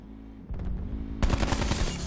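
Rapid automatic gunfire in a video game bursts in loud and dense after a brief quieter lead-in, a sustained rattling volley with no talk over it.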